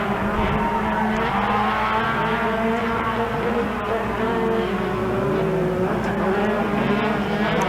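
Pro Buggy off-road race cars roar past on a short-course fairground track during a Round 6 race, engines loud and continuous with overlapping passes throughout.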